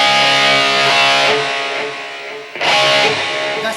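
An electric guitar plays a lead line in a 1985-style tone with heavy reverb, loud and sustained, with notes ringing and washing into long tails before a fresh attack.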